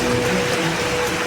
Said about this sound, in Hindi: लगातार हो रही बारिश लोगों के लिए मुसीबत खड़ी कर रही है